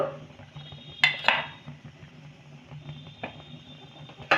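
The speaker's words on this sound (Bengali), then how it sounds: "এবার এখানে একটা আমি ঢাকা দিলাম" A lid goes down on a cooking pan of cauliflower and tomato in mustard paste with mustard oil, giving two sharp metallic clanks close together, then a softer knock and one last clink over a quiet background.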